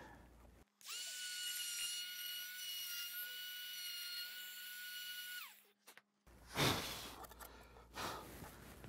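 A power tool runs at a high steady whine for several seconds while cutting a piece of rotten wood, then stops, followed by a short burst of rough scraping and rustling nearby.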